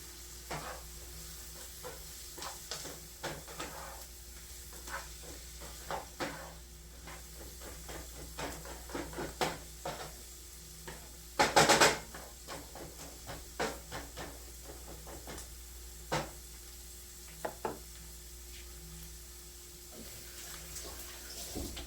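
Vegetables sizzle in a frying pan at a low, steady hiss, with frequent light clicks and scrapes of stirring and one louder clatter midway, and no one talking.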